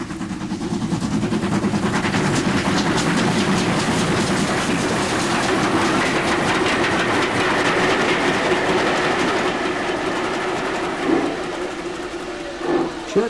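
The Great Western Railway steam locomotive City of Truro runs at speed, a loud, steady roar with rapid rhythmic clicking of wheels on rail joints that stays close and even throughout, with no voices.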